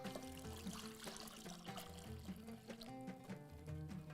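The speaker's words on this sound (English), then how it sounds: "Now it's a bit hot and we're going to add water" Water is poured into a hot pot while cooking Bahraini muhammar rice, a soft continuous trickling and splashing that runs quietly throughout, with clinking kitchen sounds but no speech.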